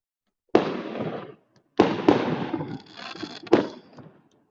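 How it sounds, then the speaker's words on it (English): Fireworks burst during Spring Festival celebrations in Longchang, Sichuan, in three loud, close booms, each crackling and rumbling briefly before fading, with silent gaps between them. "There's a few other fireworks going off over here as well."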